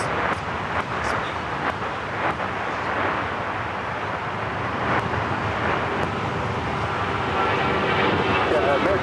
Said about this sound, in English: Next takeoff is Alaska Airlines Flight 6 heading to Reagan National. It's a 737-800.